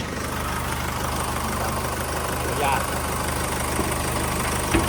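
A 2011 Nissan Navara 2.5 turbo diesel pickup idles with its hood open, a steady close diesel clatter and hum that holds even throughout, with someone speaking briefly over it.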